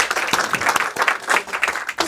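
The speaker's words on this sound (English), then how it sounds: "I would like a round of applause for them" A crowd applauding, dense rapid clapping from many hands filling a room, fairly loud and continuous.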